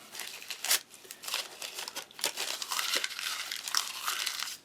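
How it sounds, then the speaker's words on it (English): Close, crisp crinkling and tearing of a military ration (MRE) paper wrapper, in irregular bursts of rustling that continue throughout with no talking. "hearing all this paper opening up"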